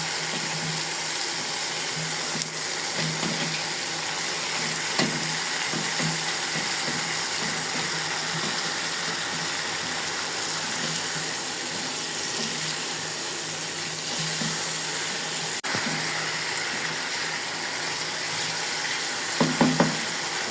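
Shing catfish pieces go into spices frying in a pan, giving a steady close sizzle and hiss with a few light clicks and clatters near the end.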